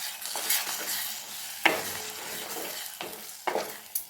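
Ground coconut paste goes into a frying crab curry masala with onion and tomato, giving a soft sizzle with a few sharp scrapes and clunks of a spoon stirring against the pan.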